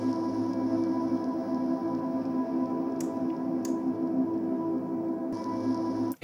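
Cold, atmospheric guitar-derived pad from the Vital synthesizer, a steady layered drone that holds evenly for about six seconds with faint shimmering highs, then cuts off abruptly.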